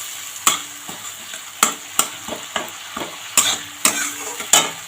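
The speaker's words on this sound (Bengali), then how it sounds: "বেশ সুন্দর করে একটুখানি কষিয়ে নেব।" Spinach and cauliflower sautéing in a pan with bay leaves, a steady sizzle broken by repeated sharp scraping strokes of a spatula in an uneven rhythm, close and clear with no talking.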